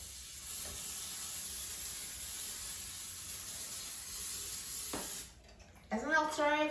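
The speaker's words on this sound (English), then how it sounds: "now I'm going to spray the air fryer basket with a non-sticking cooking spray" Non-stick cooking spray hisses steadily into an air fryer basket for about five seconds. A short pause follows, then a voice starts talking.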